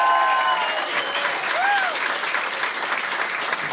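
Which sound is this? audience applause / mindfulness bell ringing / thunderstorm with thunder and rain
audience applause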